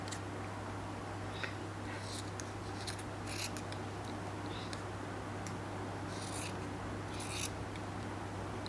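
Scissors cut through a doubled layer of fabric at a pant hem in several short, crisp snips spaced irregularly over a steady background hum, close and fairly quiet.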